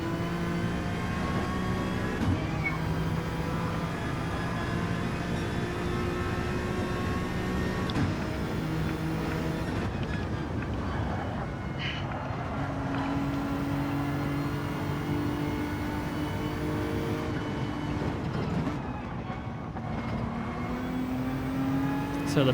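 Race cars in the Gr. 3 class roar around the Atlanta circuit in a racing video game. Engine notes rise and fall continuously, with gear-shift steps and cars passing close by, and no one speaks.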